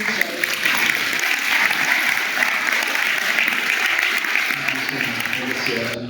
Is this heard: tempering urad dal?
no